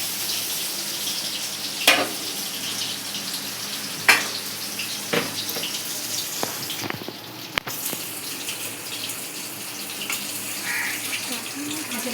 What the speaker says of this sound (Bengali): এবার বেগুন দিচ্ছে, বেগুনটা ভেজে নামিয়ে নেবে